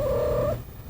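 A cat in heat lets out a drawn, wavering vocal sound, loud and close, that breaks off halfway and starts again briefly at the end.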